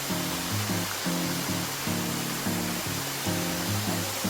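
Padghe waterfall pours steadily close by, a loud, continuous rush of falling water holding at the same level throughout, with no talking.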